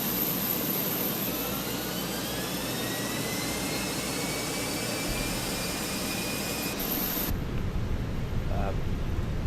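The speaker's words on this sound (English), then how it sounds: "APU is fired up" An Airbus A320 auxiliary power unit running in Microsoft Flight Simulator 2024 at Stansted, a loud continuous jet-like whine and roar with rising tonal whistles, holding steady before abruptly thinning out near the end.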